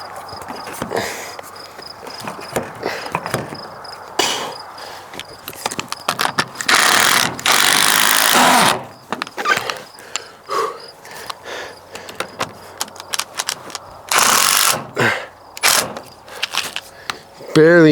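Clanking, ratcheting metal bumps and scrapes as a heavy mobile archery stand with a built-in axe target is lifted and screwed into the back of a vehicle, with irregular loud bursts and some talk.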